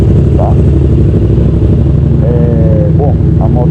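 Remapped Yamaha MT-07 motorcycle fitted with a Jeskap exhaust idles loudly and steadily close by, a dense low engine rumble throughout with a few brief rising revs near the end.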